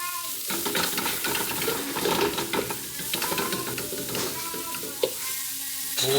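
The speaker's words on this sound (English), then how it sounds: "Now onions. And I've got the heat on high at this point." Finely chopped onions fry hard over high heat, a loud, constant sizzle with a busy clatter of stirring and scraping in the pan and one sharp knock near the end.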